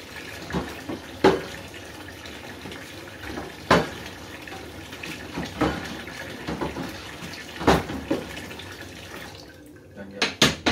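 Stirring tea in a large container with whatever utensil is at hand, making hatch-like knocks and clinks against the sides at irregular intervals over a steady watery background, close and moderately loud.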